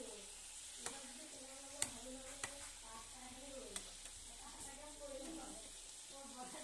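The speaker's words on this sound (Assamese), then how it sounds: "পিঠা ফুলাই ফুলাই বনাই আছোঁ" Rice-flour pitha cakes fry in a wok, a quiet steady sizzle punctuated by a few sharp clicks of stirring utensils, with a voice speaking softly alongside.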